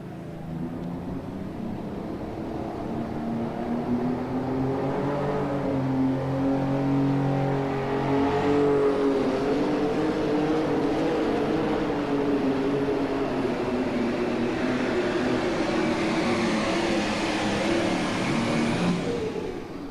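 A green John Deere tractor revs hard at a tractor pull during the 2002 National Farm Machinery Show: a loud, steady engine roar that holds for about twenty seconds while its pitch shifts up and down.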